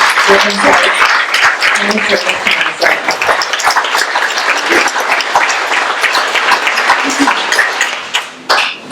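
Applause from the audience at a summer community celebration, a steady wash of many hands clapping for several seconds, fairly loud, with a few voices and a whistle mixed in before it thins out near the end.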